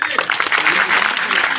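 Dense applause from a crowd at a public meeting, continuous and fairly loud, with voices mixed into the clapping.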